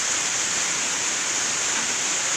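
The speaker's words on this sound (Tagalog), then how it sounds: "malakas yung ulan ngayon" Dense, steady roar of heavy rain or rushing water, loud and continuous with no pauses and no voices.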